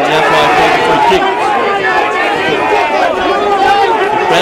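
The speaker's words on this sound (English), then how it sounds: "Crowd not happy with it." A football crowd at a Mernda v Panton Hill Division 3 seniors grand final murmurs and calls out in displeasure over a free kick, a broad babble of voices with a commentator talking over it.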